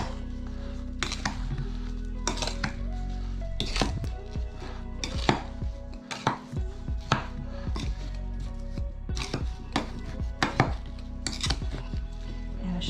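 Rhubarb tossed with flour, sugar and cinnamon using a small spoon in a bowl: repeated sharp clinks and scrapes at an irregular, brisk rhythm over a low steady hum.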